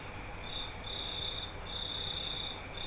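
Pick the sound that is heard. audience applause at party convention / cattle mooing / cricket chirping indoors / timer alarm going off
cricket chirping indoors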